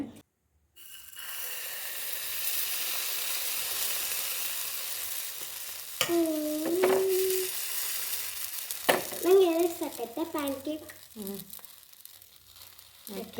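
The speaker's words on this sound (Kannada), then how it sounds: "ಸ್ವಲ್ಪ ಈರುಳ್ಳಿ ಮತ್ತು ಜೀರಿಗೆ ಉಪ್ಪು ಹಾಕಿ ದೋಸೆ ಮಾಡಲಿಕ್ಕೆ" Dosa batter with onion, cumin and salt sizzling on a hot pan, a steady hiss through the middle, with someone talking over it.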